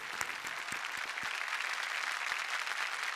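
A television studio audience applauds steadily for about three seconds, with dense, sustained clapping from a large crowd at a Marathi comedy show.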